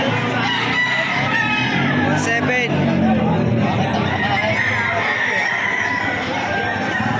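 A big rooster at an outdoor market crows loudly, close by, over a busy crowd hubbub and people talking and haggling.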